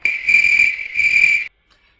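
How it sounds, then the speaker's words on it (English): Loud, close cricket chirps in two long trilling bursts, then sudden silence. "Cue the crickets now."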